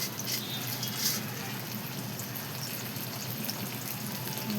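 Finely chopped onion sizzles in hot oil in a kadhai, a steady crackling hiss with soft popping, even and close throughout.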